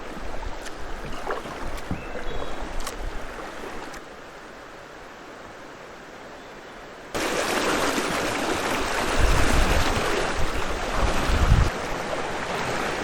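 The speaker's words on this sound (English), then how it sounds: "I gotta get my kayak through these rapids" Rushing whitewater of Chattahoochee River rapids as a kayak moves through, a continuous broad wash that grows louder and rougher partway through, with occasional low thumps and knocks.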